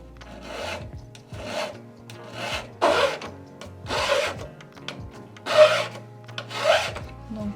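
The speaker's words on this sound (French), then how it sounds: "Je viens limer bien droit." Hand file rasping across the end of a 925 sterling silver ring being squared straight, about seven short, even back-and-forth strokes, close and clear with quiet gaps between.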